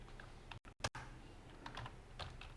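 Computer keyboard being typed on, with a quick cluster of sharp key clicks ending in a firmer press like an enter key, then scattered light taps; close, quiet and without speech.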